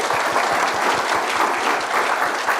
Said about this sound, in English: Please give them a big round of applause like ahead of this.